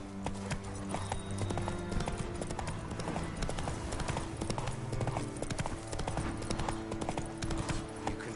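The horse Roach clip-clops along in The Witcher 3, hooves striking in a steady, close walking rhythm over a low tonal game soundtrack, with a brief spoken line early on.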